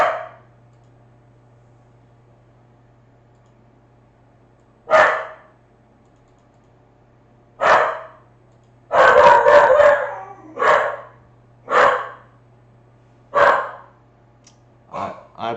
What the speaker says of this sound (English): My dog is barking because we have a friend who's visiting.